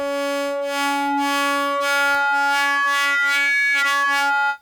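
Rossum Electro-Music Trident oscillator with its modulation oscillator frequency being swept: a steady buzzy synth tone with strong harmonics and shifting, filter-like sweeping brightness in the upper range, ending abruptly, with no voice.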